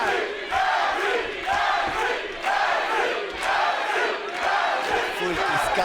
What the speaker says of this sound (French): Foule qui scande les noms